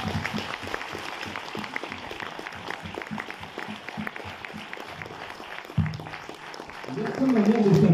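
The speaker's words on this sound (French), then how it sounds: "qui est aussi mon frère, Stéphane Méance, on peut l'applaudir." An audience at a French film premiere bursts into sustained applause, dense clapping filling the room throughout, with voices and cheers rising near the end as the applause swells louder.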